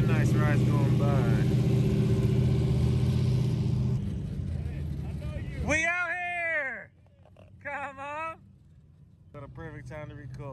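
Off-road vehicles at Glamis Dunes roar past, a loud sustained engine drone for several seconds that fades away, followed by people talking and exclaiming nearby.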